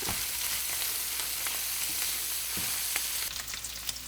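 Bite-sized sausage pieces brown in a pan for holiday stuffing, producing a loud, steady hiss of frying fat with scattered scraping stirs throughout and no speech.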